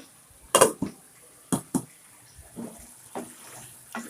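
Spices and tomato being stirred and fried down in a pan for egg curry, with a few sharp clanks of a spoon against the pan followed by quieter scraping and stirring, close by.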